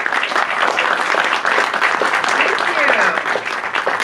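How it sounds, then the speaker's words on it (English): Steady audience applause fills a movie theater at a science screening event, dense and continuous clapping from a sizable crowd throughout, close and loud. "let's give them a round of applause"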